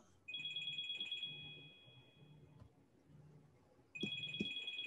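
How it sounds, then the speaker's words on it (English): A phone ringtone sounds during an online meeting, with two bursts of a steady electronic ring separated by a pause and faint room sound between them. "Somebody's phone is ringing."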